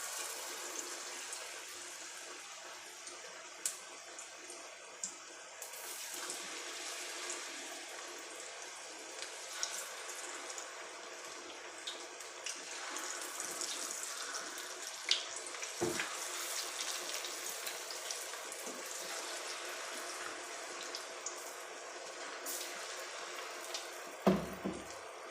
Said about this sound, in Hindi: ऑयल गर्म हो चुका है। अब पकोड़े डाल सकते हैं इसमें।